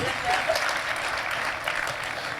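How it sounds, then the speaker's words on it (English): Audience applause at an MQA celebration event in Rustenburg, a steady dense wash of clapping from a crowd, fairly loud and continuous throughout. "Let's give them a big round of applause."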